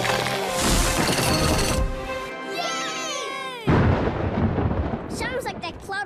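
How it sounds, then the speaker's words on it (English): Cartoon thunder crashing loudly in bursts among music and sound effects, with voices speaking between the rumbles. "That's thunder, Rolly."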